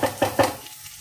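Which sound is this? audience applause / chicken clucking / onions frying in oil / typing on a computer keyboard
onions frying in oil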